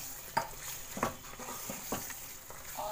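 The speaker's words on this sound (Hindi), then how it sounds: "तो ये मैं अब चिकन डाल रही हूँ" Pieces of chicken dropped into a hot pan of gravy for restaurant-style butter chicken, giving a steady sizzle with a few sharp stirring and scraping knocks, close and fairly loud, with no talking.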